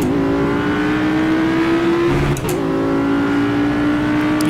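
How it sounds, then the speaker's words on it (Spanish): An Audi R8 V10 Plus screams around Laguna Seca in the Project Cars racing game, a loud sustained high-revving engine whine with one quick upshift dip partway through, alone with no voices. "Audi R8 V10 Plus en el circuito de Laguna Seca"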